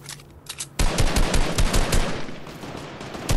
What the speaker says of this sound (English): He's really shooting me.